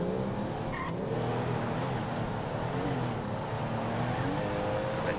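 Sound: car driving and skidding in the video game GTA V

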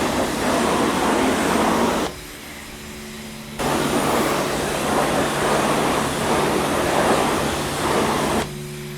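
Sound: pressure washer spraying foam at a self-service car wash

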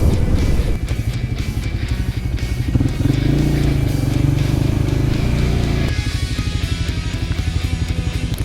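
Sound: riding a Loncin Voge LX300GY motorcycle

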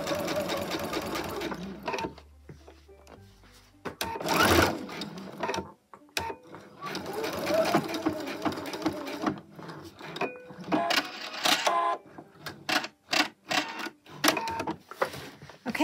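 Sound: sewing machine stitching second row on pants-turned-skirt

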